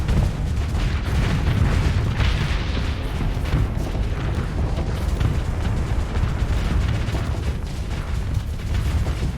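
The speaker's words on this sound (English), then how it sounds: "The amount of firepower that the Canehurst can put down range is actually incredible." The Canehurst warship fires its weapons in the Starsector space game, a dense, continuous barrage of booming shots and explosions that stays loud and unbroken for nine seconds.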